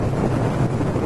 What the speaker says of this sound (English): this wind's heavy today